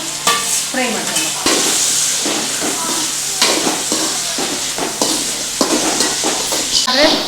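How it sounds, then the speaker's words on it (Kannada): Green chili, coriander leaves, ginger and tamarind frying in a pan make a loud, close, continuous crackling sizzle, broken by repeated stirring scrapes and clatters. "ಹಸಿಮೆಣಸು, ಕೊತ್ತಂಬರಿ ಸೊಪ್ಪು, ಶುಂಠಿ, ಹುಳಿ ಇದಿಷ್ಟು ಫ್ರೈ ಮಾಡ್ಕೊಂಡು"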